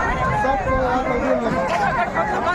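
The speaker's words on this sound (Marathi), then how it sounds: "आमची सोनारीची काळभैरनाथाची जत्रा, ही दुकानाविषयी गर्दी चालली आहे" Dense crowd hubbub at the Kalbhairavnath village fair in Sonari, with many overlapping voices and footsteps milling around market stalls, a steady close-up babble that never drops out.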